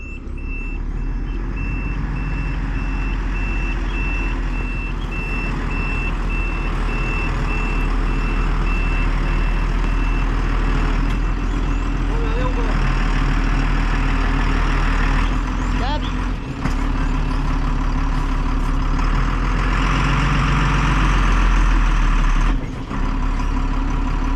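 A truck, driven in sand in Senegal, runs with a loud, steady engine rumble while a reversing alarm beeps repeatedly in the first half, with people talking nearby and engine surges toward the end.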